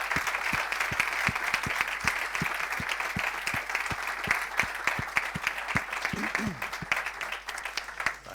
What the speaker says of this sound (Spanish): crec que podem agrair a l'speaker de nou un fort aplaudiment